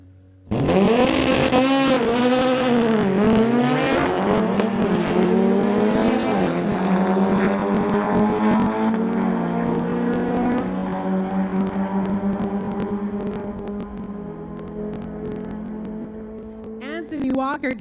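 A 1973 Beetle and a 2017 Audi drag racing at a street-legal event, engines roaring loud and close from launch, a long sustained harmonic wail that slowly drops in pitch as the cars pull away.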